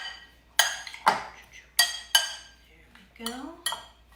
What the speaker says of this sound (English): we're gonna grab a spoon and just mix it up